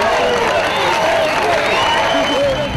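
A concert crowd applauds and cheers in a dense, continuous roar that fills the short stretch, loud and close, with a voice faintly audible beneath it.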